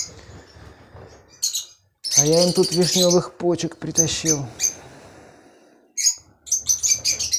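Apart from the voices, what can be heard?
lovebirds chirping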